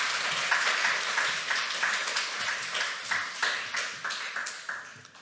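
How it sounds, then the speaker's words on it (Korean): A church congregation applauds to welcome the pastor at a Sunday service, a dense burst of hand clapping that gradually thins and fades over several seconds. "우리 박수로 환영하겠습니다."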